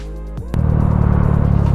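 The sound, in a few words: Yamaha Mio motorcycle engine revving with big valve head, 160cc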